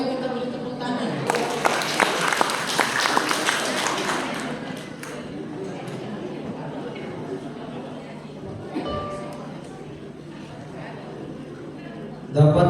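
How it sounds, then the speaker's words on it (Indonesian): Audience applause at an Easter church service in Indonesia, a dense burst of clapping that swells early then fades within a few seconds, with a room full of chatter and voices continuing underneath. "yuk kita beri tepuk tangan"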